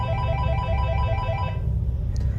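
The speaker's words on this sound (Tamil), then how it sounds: "அவங்களோட ஃபோனுக்கு அந்த மென்டல் ஹாஸ்பிட்டல்ல இருந்து ஃபோன் கால் வருது" A mobile phone ringtone plays as an incoming call in a horror story, a repeating melodic electronic ring that cuts off partway through.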